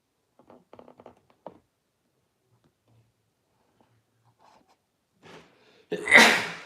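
After quiet rustles and faint sounds, a single loud, close sneeze bursts out at the end, preceded by a short inhale.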